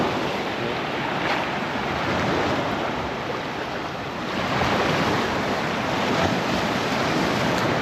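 Ocean surf rolls onto the beach at Myrtle Beach as a loud, continuous roar of breaking waves with wind noise buffeting the microphone, no voices over it.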